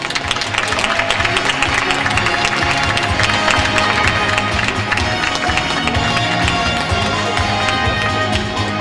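Steady, dense applause fills a concert hall for a charity foundation's selection competition, with the clapping holding at an even, full level throughout and no pauses.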